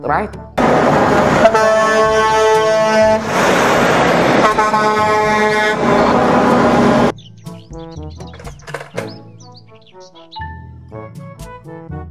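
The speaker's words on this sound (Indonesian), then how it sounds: "Mobil, truk, kontainer" A container truck's horn blares in long sustained harmonic blasts, loud and close, with short gaps between blows, then gives way to quieter tonal toy-like sounds and brief chirps toward the end.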